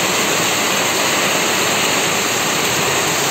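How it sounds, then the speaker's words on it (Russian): Dense, roaring rush of water from a torrential downpour overflowing gutters in Kuban, pouring continuously and loudly with no pauses. "Вода, все, водостоки не справляются."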